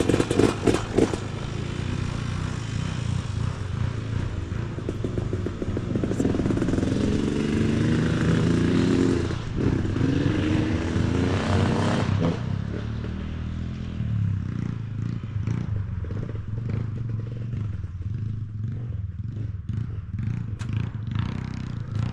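A KTM 300 two-stroke dirt bike is ridden on trails, its engine roaring loud and close at first, then revving up and down as it pulls away, with throttle blips continuing throughout.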